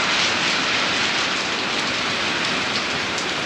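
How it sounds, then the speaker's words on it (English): Wind and heavy rain in a storm on a farm, a loud steady wash of rain hitting surfaces nearby with gusty rushing noise, continuous and without talk. "I'm ready to get out of this wind and rain"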